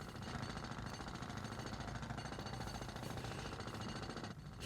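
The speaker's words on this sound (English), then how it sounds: "I like the jackhammer sound." A jackhammer pounds in a rapid, continuous rattling burst, loud and dense, as a sound effect during an underground clash in the anime Fairy Tail.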